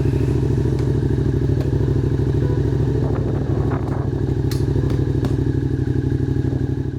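A Suzuki SV650 motorcycle engine idles steadily after an ECU flash, giving a close, loud, even rumble with a fast regular pulse and a few light clanks and taps over it, with no voices.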